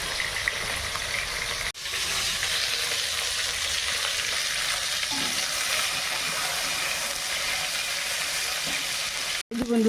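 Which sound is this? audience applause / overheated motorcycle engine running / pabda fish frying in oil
pabda fish frying in oil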